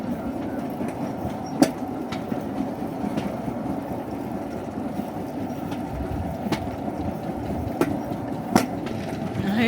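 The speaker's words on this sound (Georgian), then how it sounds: "აი აქ ნამდვილი მატარებელი გადის." A train rolling along a railway line in Greece, steady rumbling wheel noise with sharp clickety-clack rail joint clicks at irregular intervals, moderately close.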